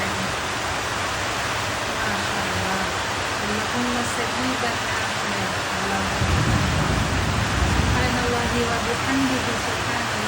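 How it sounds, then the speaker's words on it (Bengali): Heavy rain pours in Dhaka in a dense, loud roar throughout, with a person talking underneath it and the downpour intensifying toward the end. "কী পরিমাণ বৃষ্টি হচ্ছে"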